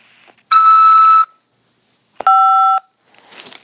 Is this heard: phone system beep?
yes